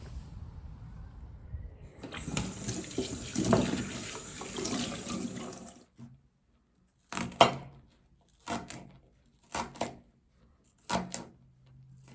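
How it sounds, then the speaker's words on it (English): Water running from a kitchen tap into a cooking pan, a steady splashing stream for several seconds. After it stops come a few separate knocks and clatters of handling, with no talking. "So you add just as much water to cover the bottom of the pan"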